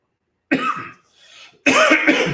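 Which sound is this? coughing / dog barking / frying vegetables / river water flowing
coughing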